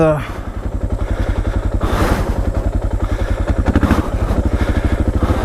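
A Suzuki DR650 motorcycle engine with a changed gear ratio while riding, giving a loud, close single-cylinder thump at a steady rhythmic pulse, with wind and clatter and a rider talking over it.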